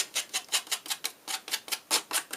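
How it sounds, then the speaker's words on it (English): Scissor blade edge scraped repeatedly along the edges of a paper card panel, about a dozen quick, crisp rasping strokes in steady rhythm, close and fairly quiet with no talking. "Just take the side edge of your scissors and that'll give you that nice roughed up look."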